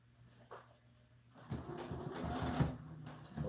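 A domestic sewing machine stitches a doll dress seam close to the fabric edge, then reverses to lock it: a steady mechanical whirring run that rises after a faint brief burst, fairly near and with no talk over it.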